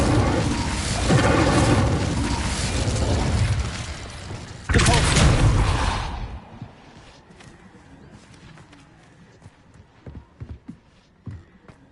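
An Incendio fire spell roars in Hogwarts Legacy, a loud, broad whooshing blaze lasting several seconds with a second surge midway, then cutting off to quieter scattered clicks and taps.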